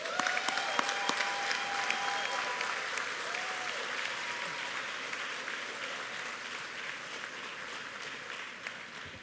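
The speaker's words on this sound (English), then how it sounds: "I want to hear a long round of applause." A long round of applause from a graduation crowd, sustained dense clapping that holds steady and slowly eases, with a few brief voices and whoops rising over it.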